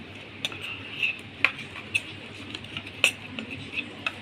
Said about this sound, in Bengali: হাফ চামচ হলুদ গুঁড়ো, হাফ চামচ ধনে গুঁড়ো দিয়ে ভালো করে ফেটিয়ে নেব।